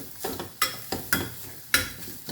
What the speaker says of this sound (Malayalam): ഒന്നേകാൽ ടേബിൾ സ്പൂൺ മല്ലിപ്പൊടി ഇട്ടിട്ടുണ്ട് ഒന്ന് മൂപ്പിക്കാം മീഡിയം ഫ്ലെയിമിലോട്ട് വെച്ചിട്ട് ഒന്ന് മൂപ്പിച്ചെടുക്കാം